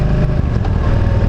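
Yamaha V Star motorcycle with a drilled-out exhaust baffle, a loud, steady low engine rumble filling the moment without pause, roughened by wind noise.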